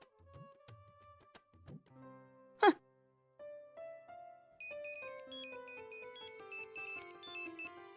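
A mobile phone ringtone for an incoming call plays as a bright melodic tune of rising and repeating tones, moderately loud and alone, following a brief sharp gasp and some soft earlier sounds.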